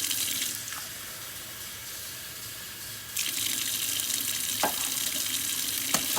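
Tap water pours steadily into a pot on the stovetop, a continuous hissing splash that briefly softens and then gets louder, with a few light clinks.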